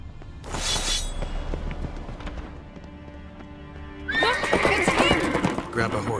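A horse in The Witcher 3 gives a loud, bright whinny near the start, followed by clip-clopping hooves and a second, longer burst of neighing and snorting, with a voice briefly speaking in between.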